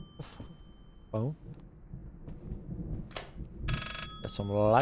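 Telephone ringing in the horror game Layers of Fear, several bursts of a trilling bell over low eerie ambience, with a brief vocal-like tone and rising pitches mixed in.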